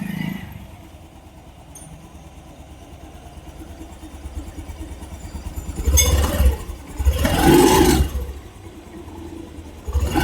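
A Honda Activa E20 scooter engine idles steadily and then revs in two loud bursts, the first around six seconds in and a stronger one soon after. No voices are heard.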